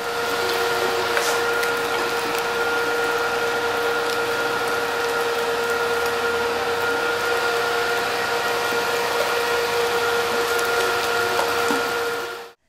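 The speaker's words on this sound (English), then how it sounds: "So what I'm going to do is grind my meat, mix in my spices, and pack it into casings." A meat grinder grinding meat for sausage gives a steady, loud mechanical whir with a constant tonal hum that holds evenly throughout, then cuts off abruptly at the end.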